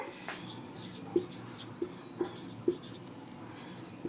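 Pen or pencil writing by hand during a class 8 maths lesson on quadrilaterals, a soft scratchy stroke texture with several small taps as marks are made, close and quiet, with no talk.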